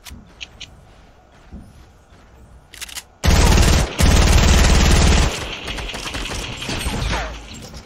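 Gunfire in the video game Fortnite: a loud, sustained burst of rapid automatic fire erupts after a few seconds of quieter game sounds, pauses briefly, then continues and trails off into lighter shots.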